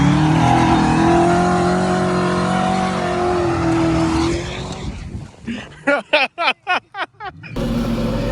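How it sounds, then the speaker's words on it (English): A car drifting across a grassy field roars with a loud, sustained engine note, then revs in sharp repeated bursts as it accelerates through a hard turn, close by. "You just go and then take a sharp turn, accelerate."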